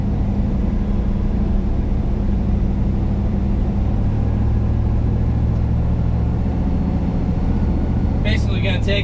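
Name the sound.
ZR1500 truck with XS muffler exhaust rumble while cruising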